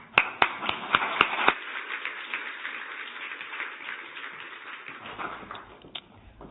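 Audience at a company townhall clapping, several loud distinct claps at the start giving way to dense sustained applause from a crowd that thins out near the end.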